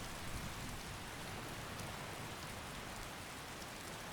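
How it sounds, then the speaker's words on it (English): Steady rain falling during a Skyrim game session, a continuous dense hiss of drops spread evenly across the whole stretch with no pauses, close and moderately loud. "And of course it's raining, so it's tanking our frame rate"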